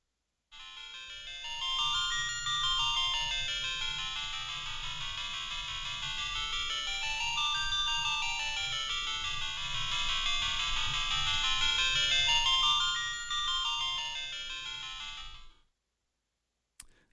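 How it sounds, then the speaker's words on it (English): Final Fantasy I chiptune music plays from a WonderSwan handheld held up to a microphone, a bright looping melody of repeating arpeggio patterns, steady and moderately loud before cutting off. "So that sound is coming from my Wonder Swan."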